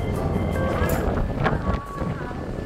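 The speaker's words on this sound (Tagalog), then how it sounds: "Malakas ang hangin." Strong wind roars and buffets the microphone while people talk and exclaim over it.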